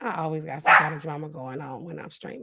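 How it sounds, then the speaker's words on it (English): A dog gives a single short bark partway through, heard under and alongside a person's steady talking indoors. "That's the dog, y'all."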